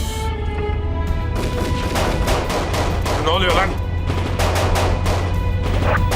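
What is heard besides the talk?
gunfire in a video game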